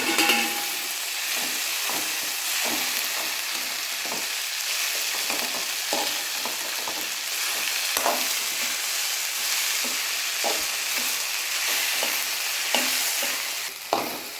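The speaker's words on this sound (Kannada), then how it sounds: "ಬೆಂಡೆಕಾಯಿ ಆವಾಗಲೇ ಫ್ರೈ ಮಾಡ್ಕೊಂಡಿದ್ವಲ್ಲ ಅದನ್ನು ಹಾಕಾದ್ಮೇಲೆ ಕಲಿಸಿ." Okra and golden-browned onions frying in a pan, a steady bright sizzle with repeated scraping stirs of a spatula throughout, close and fairly loud, with no talking.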